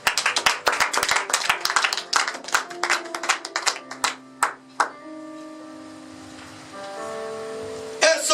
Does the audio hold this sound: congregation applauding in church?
yes